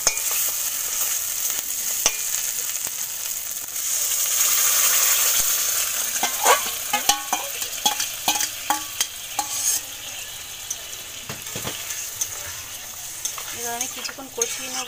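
Whisked sour yogurt is stirred into a hot pan, giving a steady soft sizzle with a clearer hiss in the middle. Loud utensil scrapes and clicks follow close up, spaced at irregular intervals.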